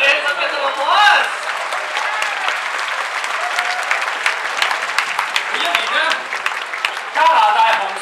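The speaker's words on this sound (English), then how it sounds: "Yes, let's get some applause." Audience applause rings out for a troupe of lion dancers at a Choy Lee Fat kung fu Founder's Day dinner, sustained clapping from a crowd that swells and surges throughout.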